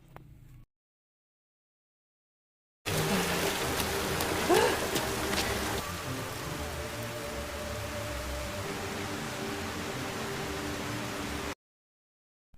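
Steady, dense hiss of heavy rain pours on without a break, loud and close, bracketed by brief quiet before and after.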